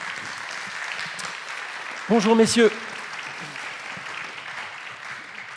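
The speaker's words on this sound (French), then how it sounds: "Et on les applaudit pour les encourager." Audience applause at a workplace health and safety conference: steady, moderately loud clapping continues throughout, while a man briefly greets people over it.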